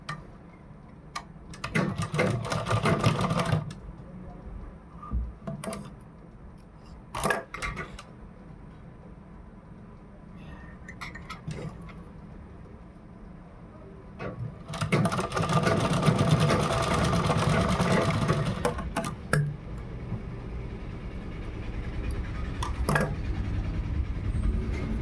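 A sewing machine stitches the shoulder seams of a blouse in bursts of rapid ticking whir, with short pauses between runs and one long continuous run near the middle; close and fairly quiet, no talking.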